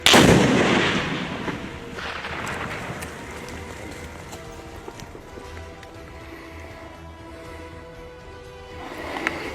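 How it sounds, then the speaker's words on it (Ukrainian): A loud explosion, set off by Ukrainian sappers disposing of explosive ordnance, bursts at the start, then a long rumbling, crackling tail slowly fades, with a smaller thud near the end. "Вибух!"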